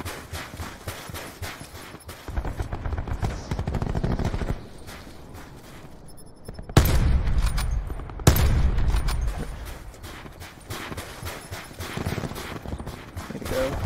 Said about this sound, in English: It's an actual sniper.